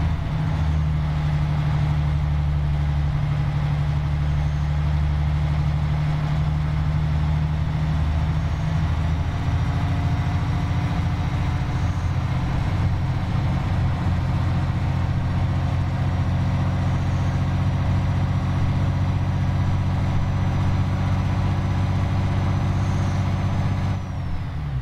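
A smallish truck engine in Euro Truck Simulator 2 drones steadily throughout, a loud low rumble with a faint rising whine over it, continuous and without talk.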